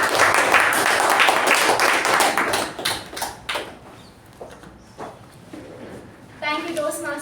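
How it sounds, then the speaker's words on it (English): A small crowd at a Toastmasters club meeting claps for a few seconds, the applause tapering off, then a voice begins speaking. "please join me in giving a big round of applause"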